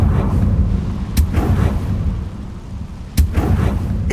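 Confringo blasting spell explosions in Hogwarts Legacy, two sharp booming blasts about two seconds apart, each with a rumbling tail over a loud, dense background of battle noise.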